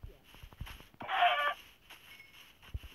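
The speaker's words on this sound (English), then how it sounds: "It's chickens." Chickens in Minecraft Pocket Edition, a short burst of game clucking around the middle amid faint background sounds, quiet and without voices.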